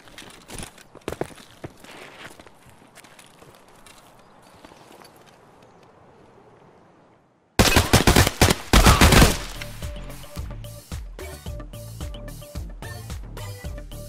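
Gunfire crackles in Escape from Tarkov: faint scattered shots and footsteps give way, after a brief silence, to a loud close volley of rapid shots followed by evenly spaced single reports.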